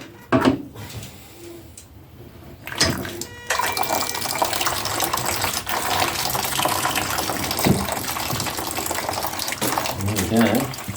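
Coolant draining from a 2003 Ducati 749S motorcycle into a container: a continuous splashing, gushing pour of liquid with some clunks and handling noises, while a person talks nearby.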